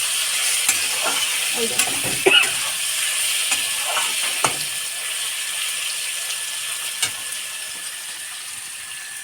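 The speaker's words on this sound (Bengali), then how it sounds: "এখন মাছগুলোকে আমি একটু কষিয়ে নেবো" Prawns for a village-style coconut milk prawn curry sauté in a pan with a steady, hissing sizzle, broken by occasional scraping stirs and a brief spoken remark.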